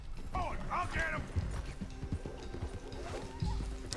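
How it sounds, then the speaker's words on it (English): Hooves clop and a loose stallion whinnies and neighs in Red Dead Redemption 2, a western video game, with creaking and a voice mixed in amid the busy, moderately loud scene. "that horse is going crazy right there"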